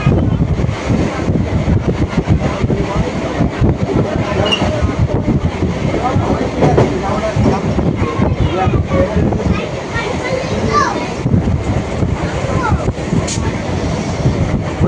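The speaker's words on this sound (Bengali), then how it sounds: "ট্রেন এখন দুর্গাপুর ঢুকছে" Passenger train running on the rails toward Durgapur during the monsoon, a steady, loud rolling rumble with rattling carriage noise throughout and no speech.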